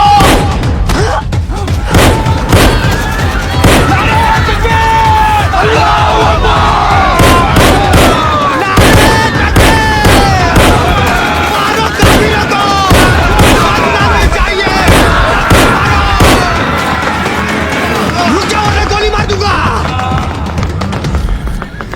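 Gunfire in a dramatized attack scene: loud, close bursts of repeated shots and heavy booms over crowd commotion and shouting voices, dense and continuous throughout.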